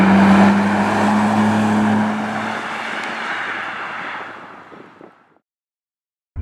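A Nissan Skyline GT-R, a 25-year-old Japanese car, drives with a loud, steady engine drone that holds for several seconds, then fades away into silence, with a brief burst returning at the very end.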